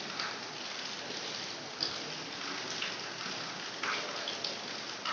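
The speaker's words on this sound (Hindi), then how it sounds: "बारिश हो रही है" Steady rain falls throughout, a soft continuous wash with occasional sharper drop taps, moderate in level and with no voices.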